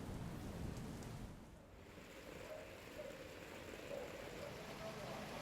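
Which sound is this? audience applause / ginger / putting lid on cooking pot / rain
rain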